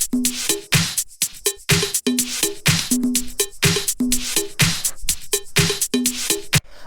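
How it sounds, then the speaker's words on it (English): A disco house mix with a soft background kick drum pulsing steadily under tonal stabs, while a noisy sweep rises through the busy, repeating groove. "which are this little background kick and then this sweep here"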